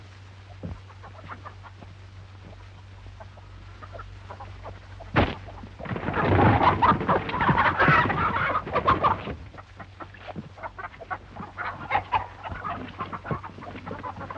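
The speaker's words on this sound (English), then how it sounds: "Oh, he can't hurt them chickens." Chickens clucking in a farmyard, with quiet scattered clucks building into a loud, busy flurry of close clucking and squawks midway before easing back to sparser calls.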